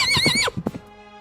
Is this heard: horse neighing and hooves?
yes